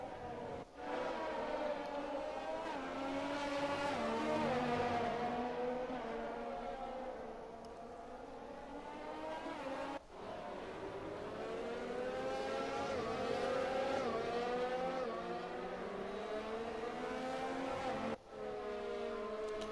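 A Ferrari Formula 1 car in the game F1 2020, racing a wet track, screams through corners with a rising and falling high-revving engine note, broken by sharp gear shifts, heard on its own.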